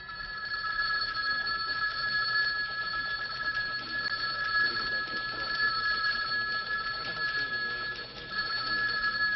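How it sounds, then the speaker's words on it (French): A telephone bell rings steadily and insistently, a bright continuous trilling that stays loud and unbroken throughout, with faint background noise beneath it. "Qu'est-ce qu'ils ont à sonner comme ça, ce téléphone?"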